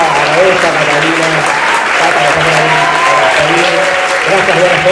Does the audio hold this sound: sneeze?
no